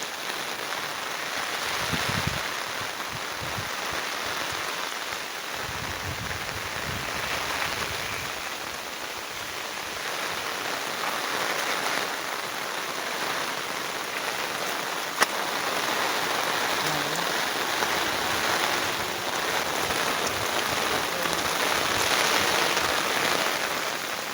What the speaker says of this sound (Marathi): पाऊस खूप जोरच केला आहे